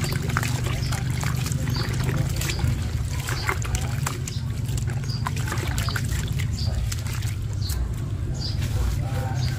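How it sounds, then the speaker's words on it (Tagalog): A hand churns homemade liquid fertilizer with water, giving a steady, close sloshing and splashing that continues without pause. "Kakamayin ko na, hahaluin natin."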